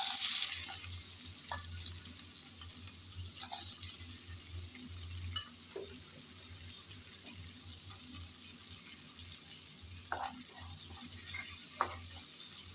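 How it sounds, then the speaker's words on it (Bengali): Chopped onion sizzles softly in oil left over from frying shrimp, a faint steady hiss with a few scattered clicks of stirring, heard close and quiet. "এখন এই চিংড়ি ভাজার তেলে দিয়ে দেব পেঁয়াজ কুচি।"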